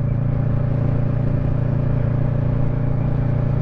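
Kawasaki Z650 motorcycle engine running hard, a loud, steady droning roar with strong constant harmonics across the whole stretch and no talking.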